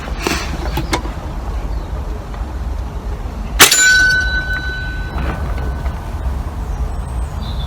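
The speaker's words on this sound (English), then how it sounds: "I heard the bell rang" An air rifle pellet strikes a metal bell target once, giving a sharp, loud clang that rings on with a sustained metallic tone over steady outdoor background noise.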